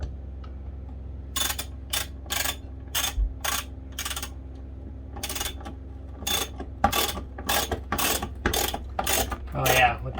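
Screw driven into a wider pilot hole while mounting a TV inside a Kodiak Dutchman travel trailer, heard as repeated short bursts of ratcheting, clicking drill work separated by pauses over a low steady hum.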